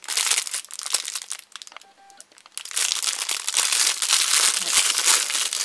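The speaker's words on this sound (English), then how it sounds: "Put that in, rip that apart" Crinkly plastic wrapping of a Pokemon card pack being torn and crumpled up close, loud crackling rustles with a brief quieter pause midway, then continuous ripping and crunching.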